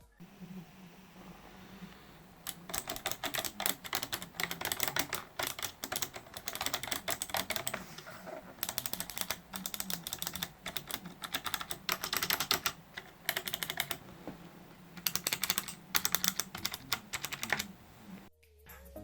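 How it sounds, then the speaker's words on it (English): Typing on a Razer Ornata Chroma mecha-membrane keyboard: bursts of quick, crisp key clicks in irregular runs with short pauses, close and fairly quiet, with no talk. "you can get a satisfying click of the key being pressed without the clank of the key bottoming out"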